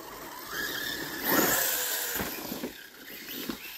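An HPI Vorza S RC buggy driving and braking outdoors, a steady whining motor with tire scuffing and gritty surface noise, swelling and easing over a few seconds.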